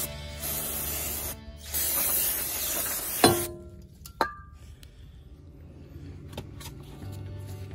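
Brake cleaner sprays from an aerosol can onto brake parts in short loud hissing bursts, followed by a couple of sharp metallic clinks and quiet handling noises.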